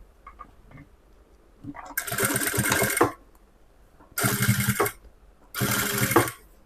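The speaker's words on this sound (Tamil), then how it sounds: "இந்த ஓரத்தில் இந்த துணியை அப்படியே ப்ளவுஸோட வச்சு இந்த ஓரத்திலே தையல் போட்டு போகிறேன்" A sewing machine stitches a lining onto a blouse along its edge, running in three close, steady bursts of about a second each with quiet pauses between.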